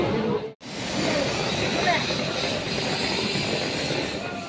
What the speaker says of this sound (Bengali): এই ট্রেনটাতে আমরা এলাম